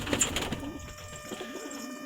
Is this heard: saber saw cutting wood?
no